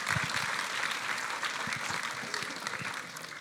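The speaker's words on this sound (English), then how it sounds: "give a round of applause to them" Audience applause at a hackathon awards ceremony in Budapest, a fairly faint but steady wash of many hands clapping from a distant crowd, continuous throughout without pause.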